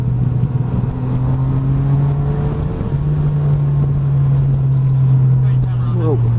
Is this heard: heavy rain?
no